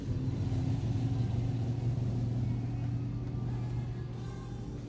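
A yellow Ford Cortina modified sedan idles at a speedway, a steady low engine rumble holding close and loud throughout, easing slightly toward the end.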